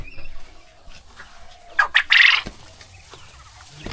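Quail on a small farm of about 200 birds give a few short, sharp chirps and clucks. The calls cluster briefly near the middle against a quiet outdoor background with faint rustling.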